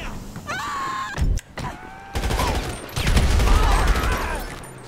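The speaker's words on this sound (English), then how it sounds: "Oh, I threw a grenade." A grenade blast in a street-crime video game set in Miami, heard as loud, booming bursts amid rapid gunfire and mechanical clunks, with a heavy low rumble building through the second half.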